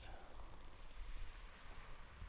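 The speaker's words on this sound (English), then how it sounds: "Me and the crickets, hopefully, and no one else." At a night campsite, crickets chirp faintly in a steady, regularly spaced pulse of high trills that repeat about every third of a second over quiet background hiss.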